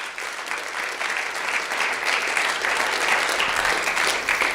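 Sustained audience applause fills a hall at a religious gathering, a dense, steady clapping that holds at the same loud level throughout with no one speaking over it.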